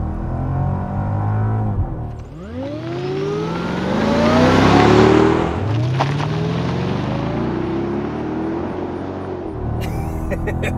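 A 500hp supercharged V8 in a Mercedes E55 AMG wagon roars and revs through gear changes, pitch sweeping upward repeatedly, loud and close from inside the moving car.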